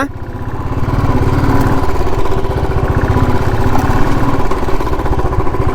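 An off-road motorcycle labors uphill, its engine chugging loud and close with a steady, rapid pulsing throb that holds for several seconds.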